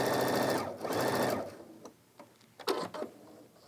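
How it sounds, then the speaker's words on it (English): A sewing machine stitches bias tape to the edge of fabric for pants in a close, steady run of about a second and a half, then stops, followed by light clicks and handling. "I'll just sew a little bit just to show you"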